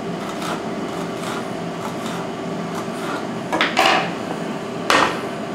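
A knife slicing thin pieces of onion on a board: a few quick cutting knocks near the end, over a steady background hum.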